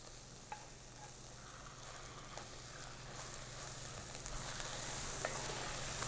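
Onions caramelizing in a pot give off a soft, steady sizzle, with faint scrapes and taps from stirring over a low constant hum.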